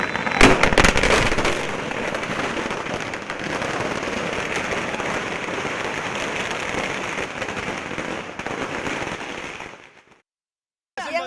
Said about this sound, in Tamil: சென்னை ராயப்பேட்டையில் உள்ள அதிமுக தலைமை அலுவலகம் முன்பாக குவிந்த அக்கட்சியினர் பட்டாசு வெடித்து தங்களது மகிழ்ச்சியை பகிர்ந்து கொண்டனர்